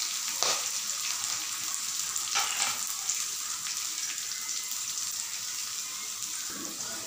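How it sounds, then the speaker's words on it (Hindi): Beans and carrots frying in ghee for fried rice make a steady, close sizzle, with a few sharper scraping stirs and spatters standing out now and then. "बीन्स और गाजर हमारे भून गए हैं"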